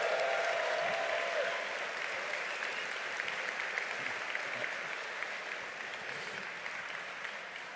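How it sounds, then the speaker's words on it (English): A large crowd at a Salvation Army civic celebration in Syracuse welcomes former Buffalo Bills quarterback Jim Kelly with steady, sustained applause that fills the room. A few scattered cheers rise through it, and the clapping eases only slightly over several seconds. "By a round of applause and maybe some cheers."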